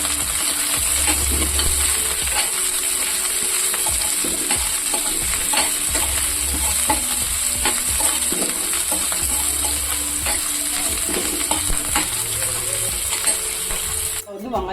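Onions sautéing in a pan for egg curry, with a steady sizzle and scattered scraping and stirring clicks running throughout, and a voice talking intermittently under the cooking noise.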